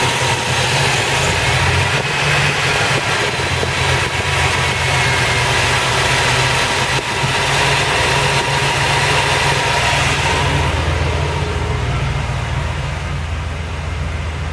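A GM engine idles at 800 RPM with a high-output alternator under load during an output test, giving a steady, close mechanical hum and low rumble that stays even throughout with no talking.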